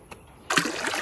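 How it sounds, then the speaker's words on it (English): Water from a faucet splashes briefly, a short faint drip followed by a sudden bright, sustained splattering stream that stays close and loud to the end. "You want to drink out of the faucet, Lucy?"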